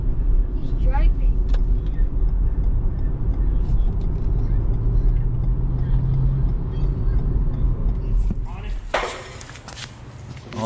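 A car runs with a low, steady engine rumble through the middle, then a brighter burst of rushing noise near the end as it moves past; someone talks over it.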